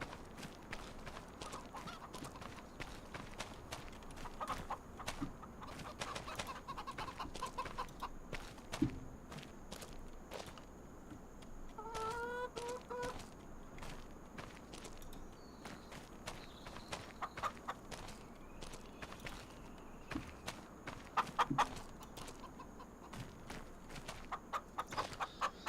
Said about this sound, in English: Let's take care of our chickens.